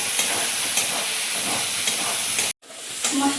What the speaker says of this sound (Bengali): এবার আমি মাছটাকেও দিয়ে দেবো নিয়ে ভালো করে মশলার সাথে মাছটিকেও কষিয়ে নেব